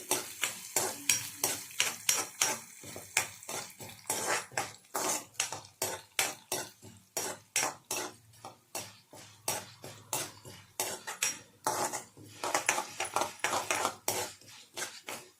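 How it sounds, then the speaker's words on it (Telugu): Urad dal and cumin seeds fry in hot oil in a pan on low heat, a soft sizzle under repeated sharp clinks and scrapes of a spoon stirring against metal, steady and close, with no talk. "మినపప్పు, జీలకర్ర వేసుకొని ఒకసారి ఇలా వేపుకోవాలండి"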